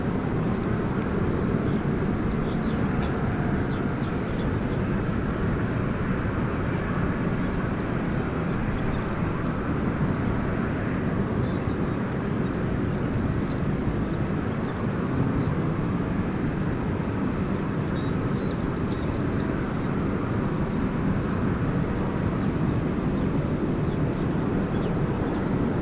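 An airplane takes off at Gold Coast Airport, a steady, loud, broadband engine roar that holds without a break for about 26 seconds, with a faint hiss of wind over it.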